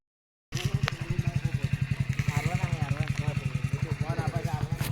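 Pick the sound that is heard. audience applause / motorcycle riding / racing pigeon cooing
motorcycle riding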